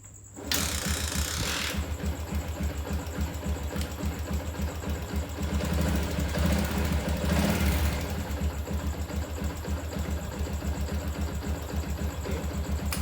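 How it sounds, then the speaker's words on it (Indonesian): A Yamaha Jupiter MX motorcycle engine starts after a brief crank and settles into a steady, rapid mechanical idle, close and even for over ten seconds with a faint ticking rattle and no talking. "selanjutnya kita tinggal hidupkan engine-nya ya"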